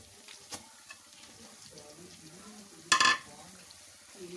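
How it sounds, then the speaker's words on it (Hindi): Keema frying in oil with whole garam masala and softened onions: a soft, close sizzle with a few light stirring clicks and one brief loud scrape, and someone speaks quietly in places. "इसको भी हल्की आंच पे इसके साथ मैं 10 मिनट के लिए फ्राई करूंगी"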